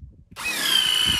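A power drill starts up abruptly and drives a screw into wood while building a chicken coop, a close high motor whine that rises and then holds steady for about a second.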